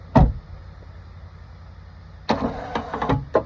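A truck door slams shut with a sharp thud near the start, followed by a quiet pause and then a burst of clunks and rattles from hardware being handled close by.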